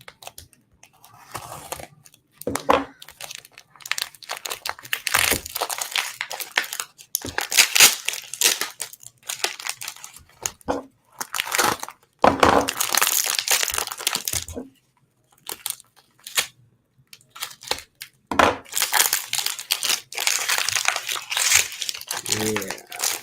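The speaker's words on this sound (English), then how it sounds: "what's the best way through all these layers of tape? So I'm just going to cut the bag." A plastic package bag wrapped in many layers of tape is cut and pulled open, with loud close crinkling, crunching and tearing in uneven bursts and pauses, and a voice talking at times.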